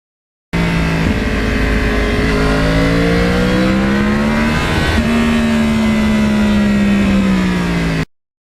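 Yamaha R1 crossplane motorcycle engine riding through a lake area of northern New Jersey: a loud, continuous close-up engine drone with rising and falling pitch as it shifts and accelerates, no talking.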